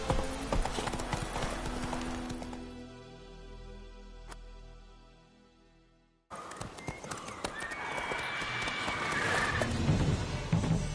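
Hooves of the horse Roach clip-clopping in The Witcher 3, with whinnies, a near rhythmic trot that fades out, a brief silence, then resumes loudly alongside other game sounds.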